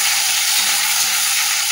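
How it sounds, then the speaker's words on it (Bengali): Onions fry in a pan for Bengali home cooking, giving a continuous loud, even hiss and sizzle with no pauses and no voices. "পেঁয়াজটা ভাজা হোক"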